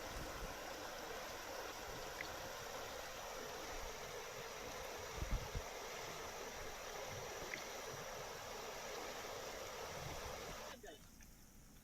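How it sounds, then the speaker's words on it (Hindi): Floodwater of the Ghaghara river in Gonda rushes steadily in a broad, unbroken roar with wind-like hiss, continuous and fairly loud before dropping away near the end. "तेज बहाव के चलते नाव से भी लोग रास्ते को पार नहीं कर पा रहे हैं"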